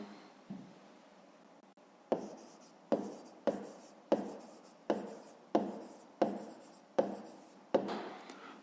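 A pen writes an answer on paper in a quiet room, making short scratchy strokes in a steady rhythm of about ten close, soft bursts with small pauses between them.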